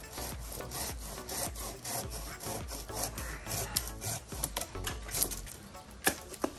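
A handsaw cutting through a tree branch with steady back-and-forth strokes, a rhythmic rasping of teeth on wood, close and clear with no talking.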